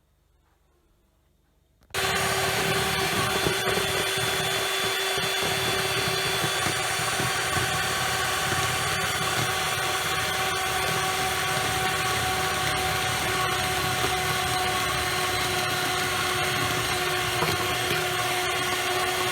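After a quiet moment, an electric mixer switches on and whips five egg whites with a pinch of salt while sugar is gradually added, a loud, constant whirring motor drone held steady to the end.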